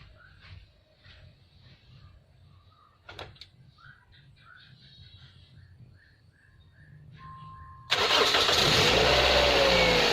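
A Toyota Vios car engine with a vacuum fault and rough-running shake cranks and catches, roaring to life loudly after some quiet clicks and faint background sounds, then idling steadily.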